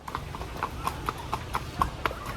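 Bablu the horse trots along on a ride at Kodaikanal Boat House, its hooves striking in an even, evenly spaced clip-clop near the listener over a low background hum.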